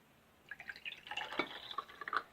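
Faint dripping and trickling as leftover water from a small tomato-concentrate jar is poured into a pot of quick tomato soup, with irregular liquid splashes for about two seconds in a quiet kitchen.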